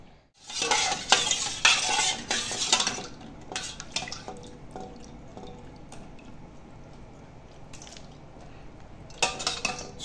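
Oil fritters (tel pitha) frying in a pan burst in loud, close pops and crackles over a bubbling sizzle, with a dense burst early on that thins out and then flares again near the end. No one speaks.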